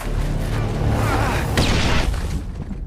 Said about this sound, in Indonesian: dinamit itu keburu meledak ketika sebelum sempat terlempar jauh